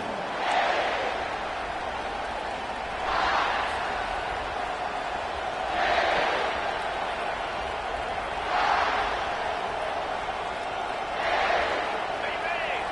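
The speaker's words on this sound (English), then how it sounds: "The roar of the crowd trying to fuel this defense to keep them pinned in their own end." Stadium crowd at a college football game in Texas roaring in repeated swells, rising and falling roughly every two to three seconds as a steady wash of distant noise with no clear talk.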